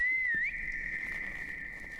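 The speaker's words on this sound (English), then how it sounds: "Why are you whistling?" A single person whistles one steady, clear tone that bends briefly at the start and then holds, close and alone in a quiet game setting.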